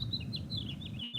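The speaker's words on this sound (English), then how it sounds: "So nice to hear the birds chirping" Small birds chirp at a campsite, a quick series of high, bright tweets repeating over a low background rumble, fairly close and clear, stopping just before the end.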